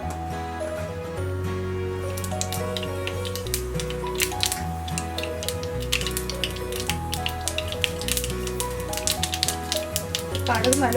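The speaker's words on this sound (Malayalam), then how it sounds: "കടുക് നല്ലൊരു പൊട്ടി വരുന്നുണ്ട്." Mustard seeds spluttering in hot coconut oil in a pan make a dense run of sharp pops and crackles, heard close over a steady background hum that lasts throughout.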